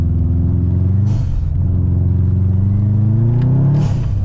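A Subaru car's engine hums in a low, close drone, its pitch rising twice as it revs up through the gears, with a brief break in the sound between the climbs.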